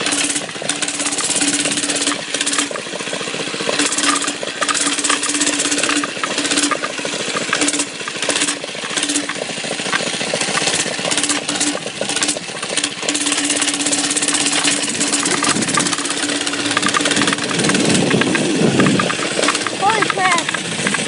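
A small mini bike engine buzzes continuously while riding over bumpy ground, with the rumble of wind and the ride mixed in and a voice talking over it at times.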